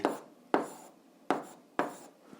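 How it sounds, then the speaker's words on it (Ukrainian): Handwriting an algebra answer for an 8th-grade exercise, four separate quiet scratchy strokes of pen or chalk spaced about half a second to a second apart, close and faint. "Пишемо відповідь."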